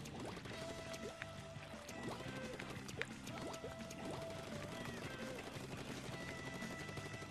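Rapid fire from an N-Zap '85 ink gun in a Splatoon turf war, a quick steady stream of squirting pops laid over busy game music and effects at a modest level.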